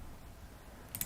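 A computer mouse gives a quick double click, faint and close, over quiet room hiss.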